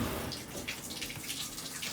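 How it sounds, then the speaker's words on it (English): A bathtub shower runs after a new tub faucet and diverter are installed: a steady, close hiss of spraying water with soft splatter, continuous and moderately quiet throughout, with no talking. "You see our shower's going well."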